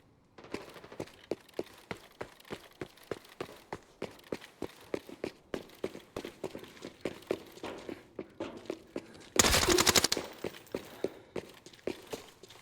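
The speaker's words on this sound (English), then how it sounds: "That sounded like an SKS or something." Rapid, evenly spaced gunshots from an SKS-type rifle in the shooter game Arena Breakout: Infinite, a long run of sharp cracks at moderate distance, ending in a brief burst of denser, louder fire.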